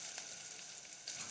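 Carrots, onion and garlic sweating in a pot for tomato sauce give off a steady, soft sizzle close by, an even hiss with no talking.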